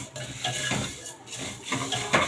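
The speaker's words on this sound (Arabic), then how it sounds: "بفضل اقلب فيها" Vermicelli stirred in a pot for a milk-and-sugar vermicelli dish: a spoon scrapes and clinks against the pot in uneven, repeated strokes, close and moderately loud, with no talking.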